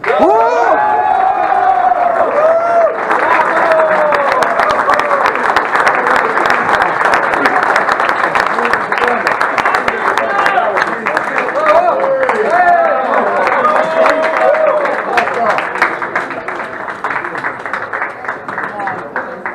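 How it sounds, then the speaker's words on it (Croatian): A crowd at a Croatian sommelier club award ceremony gives sustained, loud applause with scattered cheers and whoops for Siniša Lasan, named best sommelier of 2017, while a voice speaks over the clapping throughout. "još jednom aplauz za Sinišu"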